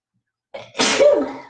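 One loud, close sneeze after a brief silence, a short sharp intake of breath bursting into a forceful, slightly voiced expulsion.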